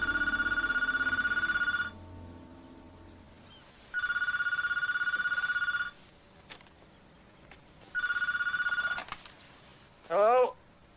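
A telephone rings with loud, clanging bell bursts in three two-second rings separated by pauses, followed by a brief clatter as it is picked up and a voice answers.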